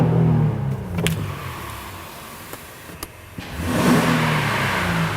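A Honda Ridgeline's 3.5-liter engine is started. A couple of sharp clicks come first, then the engine catches with a rising rev and settles into a steady idle heard from nearby.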